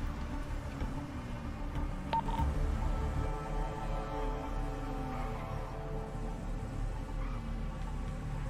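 A telephone dialing sequence in the GTA 5 video game plays as soft tones over a steady background hum and engine-like drone, continuous for several seconds with no speech.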